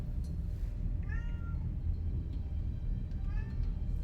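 A cat meows twice, short rising-and-falling calls about two seconds apart, over a steady low hum of game sound from a space combat game.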